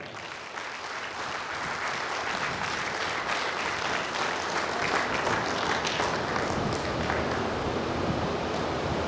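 Sustained applause from an audience at an honour ceremony, a dense steady wash of clapping lasting throughout, fairly distant and roomy, with no speech over it.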